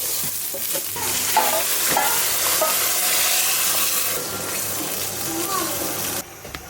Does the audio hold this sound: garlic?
yes